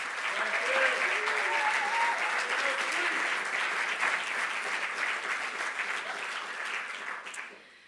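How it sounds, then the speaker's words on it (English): An audience at a university lecture event applauds the staff, a dense burst of clapping that stays strong for several seconds and then tapers off, with a voice speaking briefly at the start. "So how about a round of applause for the staff?"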